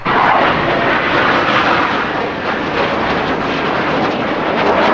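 An airplane flies over, its engine roar steady and loud throughout, with a slight dip midway before swelling again, heard outdoors with no talking.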